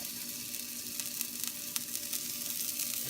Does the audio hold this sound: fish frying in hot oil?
yes